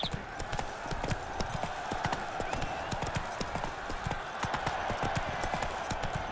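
Roach, a horse in The Witcher 3: Blood and Wine, gallops with fast, close, rhythmic hoofbeats that run steadily throughout over a busy game soundscape.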